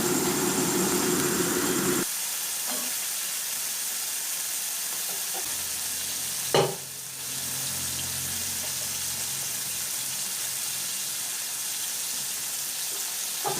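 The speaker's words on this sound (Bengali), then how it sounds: "চিংড়ি মাছগুলোকে উল্টে পাল্টে ভেজে নিচ্ছি" Prawns frying in oil in a pan, a steady close sizzle with a sharp clatter partway through as they are turned, the hiss continuing throughout with no one speaking.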